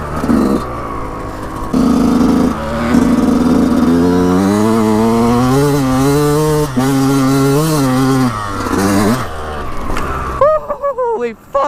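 A Yamaha YZ125 two-stroke dirt bike climbing a hill with an aftermarket CDI box, its engine revving up and down in a loud, close whine that rises and falls, then cuts out into brief rider exclamations.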